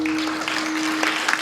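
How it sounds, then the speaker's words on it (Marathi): A kirtan audience claps together in a steady, dense wash of many hands, with a low hum running underneath and no voices. "झोपा टाळी वाजवा"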